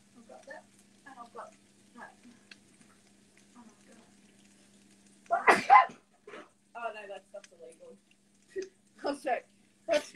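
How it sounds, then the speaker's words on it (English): A single loud, sharp sneeze bursts out in the middle of a kitchen while gnocchi is being cooked. A person talks in short phrases before and after it. "I'm going to sneeze."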